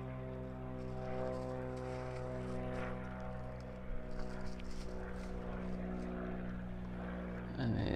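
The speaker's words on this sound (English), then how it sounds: "And there's the plane up there somewhere." A propeller plane flies over an African savanna during an aerial wildlife census, its steady droning engine hum continuous throughout and swelling slightly nearer the end.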